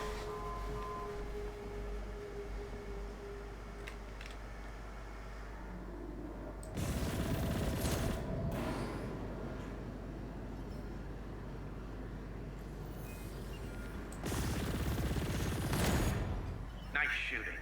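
Automated security guns fire in the space shooter video game Chorus, with two loud sustained roaring bursts of fire standing out from a quieter hum of ambient game sound.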